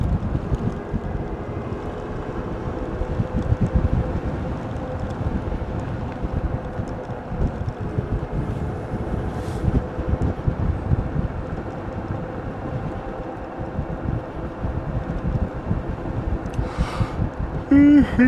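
A Ridstar Q20 ridden outdoors, a steady whirring motor drone under strong wind buffeting on the microphone, continuous for the whole stretch.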